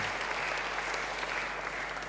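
Applause from a church congregation during a sermon, a steady dense clapping of many hands that fills the whole stretch without pause, with no voices over it.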